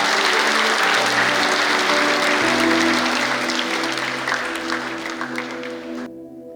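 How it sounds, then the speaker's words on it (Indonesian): A church congregation at a divine healing revival service claps loudly and steadily for Jesus, a dense sustained applause that tapers off near the end, with a low musical drone running beneath it. "Mari beri tepuk tangan buat Tuhan Yesus saudara"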